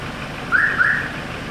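A Kia Sorento fitted with an EZ5500 two-way remote-start alarm gives two quick high electronic chirps over a low steady background hum.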